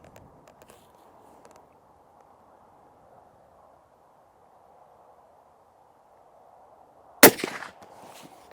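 A single sharp rifle shot from a Sako 100 Explorer firing copper lead-free ammunition cracks loudly out of a quiet outdoor hush, followed by a brief fading echo.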